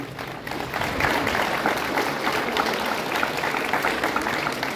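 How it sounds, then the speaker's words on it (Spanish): An audience at a municipal event in Huauchinango breaks into sustained, dense applause that swells after the first second and carries on evenly, with no talk over it. "Aplausos, por favor."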